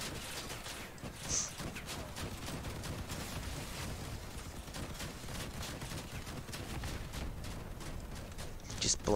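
Weapons firing in the vehicle combat game Crossout, a dense, steady rattle of overlapping gunfire bursts that carries on without break, with a couple of sharper blasts standing out near the start and end.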